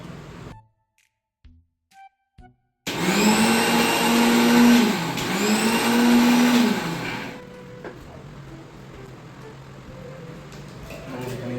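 A mixer grinder blending dosa batter whirs loudly at close range in two long whining bursts, its pitch sagging under load, after a few faint clicks and before quieter background noise.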